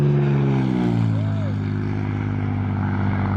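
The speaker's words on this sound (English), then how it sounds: "It's a flyby again." Small propeller plane doing a flyby: a loud, steady engine drone with shifting pitch as it passes close overhead, a voice talking faintly underneath.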